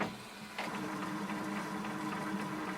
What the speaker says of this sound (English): So printer is starting for first time.